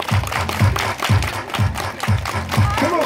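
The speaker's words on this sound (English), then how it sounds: "Freeze! Everybody clap your hands." Children at a school dance-a-thon clap their hands loudly in a steady rhythmic beat over pounding dance music, with voices mixed in.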